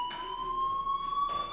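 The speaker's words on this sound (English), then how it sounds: "do you hear that fire alarm?" A fire alarm rings in the video game Life is Strange, a shrill, steady electronic tone with a pulsing, buzzing edge that carries on without a break, loud and close, with no voices.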